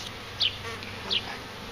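Honey bees buzz steadily close by while a caged queen is installed between hive frames, a dense continuous hum with a few brief louder passes.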